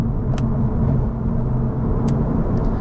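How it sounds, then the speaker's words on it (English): A 2025 CUPRA Leon VZ3 engine in CUPRA mode, third gear at about 42 mph, gives a steady, loud low rumble from inside the cabin. The drone holds evenly throughout with no voices. "The revs have risen. We've gone into S+ mode, third gear, 42 mile an hour."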